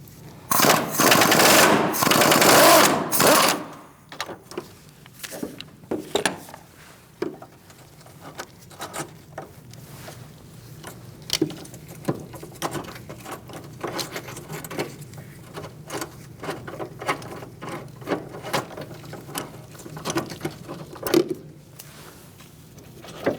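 A ratcheting socket wrench with an 18mm socket, swivel and extension working a transmission mount bolt on a 2016-2019 Chevrolet Cruze 1.4L, with a loud burst of rapid clicking at first, then scattered irregular ratchet clicks and taps close by.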